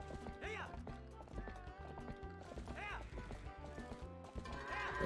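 Hooves of goats clatter in a quick clip-clop as they run in the Twilight Princess game, the steady patter sitting under loud in-game music.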